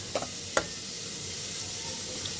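Green tomatoes frying in a pan for a Bengali bharta, giving a steady close sizzle with a couple of brief stirring clicks.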